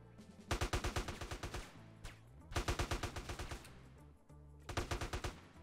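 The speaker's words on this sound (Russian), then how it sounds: "автор мода постарался реализовать стрельбу при таком положении дел" Automatic gunfire in GTA San Andreas played with a top-down camera mod, heard as three loud bursts of rapid machine-gun shots separated by short pauses.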